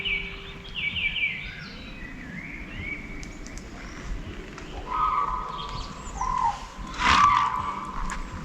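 Evening birdsong at the Metsanurme campfire site, with faint, scattered chirps and short warbling phrases heard from a distance over a soft, steady outdoor background.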